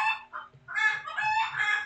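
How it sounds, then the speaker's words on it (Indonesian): Chickens cluck and a rooster crows in the background, making a run of clear squawks and calls with short pauses between them. "Mohon maaf juga jika ada backsoundnya suara ayam dan burung."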